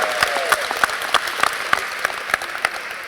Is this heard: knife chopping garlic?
no